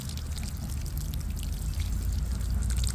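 Water pours steadily from a watering can onto a freshly planted hanging basket set on the ground, a close, continuous splashing and trickling through soil and leaves.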